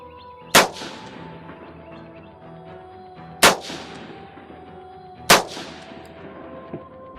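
A Marine Corps rifle fires unsuppressed at a range: three sharp, separate cracks a few seconds apart, each followed by a short ringing decay over a quiet background.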